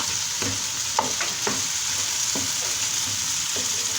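Bulgur with onions and peppers fries in a pan, a steady bright sizzle with a spoon scraping and stirring in several distinct strokes, close and alone.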